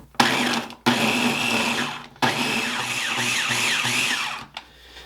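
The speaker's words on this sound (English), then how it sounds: "we're going to pulse this down into coarse breadcrumbs" A Ninja blender pulsing butter into coarse breadcrumbs for peach cobbler: three loud close motor bursts separated by short pauses, the last one longest, whirring with a rattling chop before winding down.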